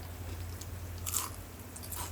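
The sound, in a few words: crunching bite of syrupy jalebi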